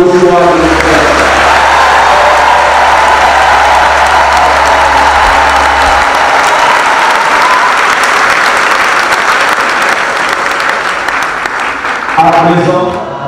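A church congregation at a diaconal ordination breaks into loud, sustained applause that fills the space, steady clapping with some crowd noise throughout, and a faint low hum in the first half.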